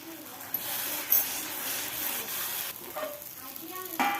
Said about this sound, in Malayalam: നല്ലപോലെ ഇളക്കി കൊടുത്തുകൊണ്ടേ ഇരിക്കണം